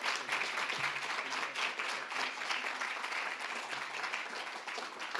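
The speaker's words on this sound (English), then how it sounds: "Please give our panelists a round of applause" An audience at a panel discussion claps for the panelists in a steady, dense round of applause that holds at an even level from start to finish, with no voices over it.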